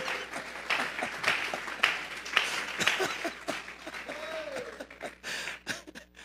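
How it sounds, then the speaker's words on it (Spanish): Congregation clapping as an offering of applause to God during a Spanish-language church sermon, uneven bursts of hand claps with a voice briefly audible in the mix, moderate in level. "vamos a regalarle ofertas de palmas al Dios de la gloria"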